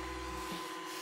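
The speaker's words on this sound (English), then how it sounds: "Using my little vacuum cleaner here." A small handheld vacuum cleaner, used on keyboard parts, runs with a steady, faint motor whine and airy hum, briefly changing pitch as it works, with no talking.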